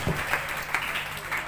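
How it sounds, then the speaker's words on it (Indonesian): A church audience gives a short burst of applause during a sermon, brisk and dense clapping with a steady hum underneath. "Beri tepuk tangan dulu yang terbaik"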